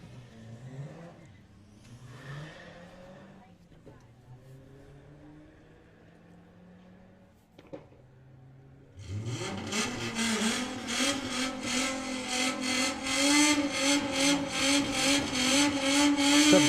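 VW and Audi drag racing cars launch down the Santa Pod strip at a VW drag racing event, engines revving hard and roaring loudly after quieter idling and a brief pause, the roar building and pulsing with gear changes.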